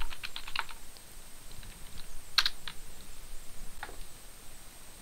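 A password tapped out on a computer keyboard in a short run of light, close key clicks followed by a few scattered taps, set against a steady background hum.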